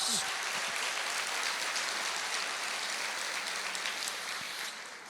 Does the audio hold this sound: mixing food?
no